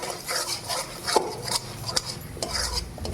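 Masala for matar paneer being stirred and sautéed in a pan, with repeated close scraping strokes of a spoon against metal over a soft sizzle, in an uneven rhythm.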